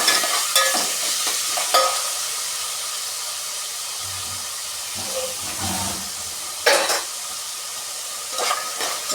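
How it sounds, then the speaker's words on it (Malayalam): Potatoes and mixed vegetables sauté for a vegetable biryani, a soft steady sizzle broken by several sharp scraping stirs of a spoon against the pan. "നല്ലവണ്ണം വഴറ്റി കൊടുക്കാം."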